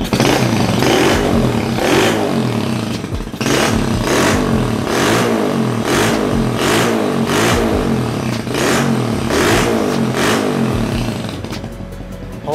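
A Honda HSX 110 semi-automatic motorcycle engine starts and idles loudly and close up, its steady throbbing exhaust pulsing with rhythmic surges of revving throughout.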